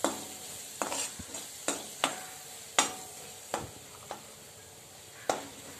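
Boiled potato pieces seasoned with turmeric, asafoetida and salt are stir-fried in a pan for a tiffin dish: a soft continuous sizzle broken by repeated scraping strokes of the spatula at irregular intervals.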